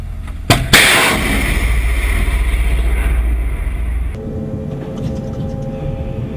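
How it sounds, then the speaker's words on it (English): A Sea Dart missile launches from the destroyer HMS Edinburgh, opening with a sharp near blast and then a loud, sustained roaring rush that cuts off abruptly, leaving a quieter rumble with no talk. "Missile gone, right beam."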